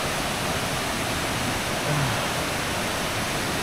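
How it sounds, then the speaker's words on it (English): A waterfall near Aguas Calientes, Peru, roars as a constant, dense wash of rushing water, loud and steady with no other sounds standing out. "waterfall number two."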